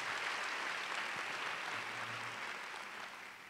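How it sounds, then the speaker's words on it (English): Audience applause at a mayor's pre-K event: a dense, steady wash of clapping runs the full length, loud at first and easing slightly toward the end, with no voices over it. "Let's give them a round of applause."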